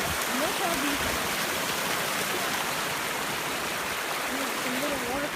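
Spring water running into a creek outdoors, a steady broadband rush of flowing water close by, continuous for the whole stretch with faint tonal squeaks or birdlike calls drifting over it.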